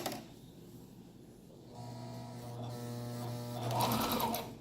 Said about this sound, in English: now we're gonna sew again on the 15 line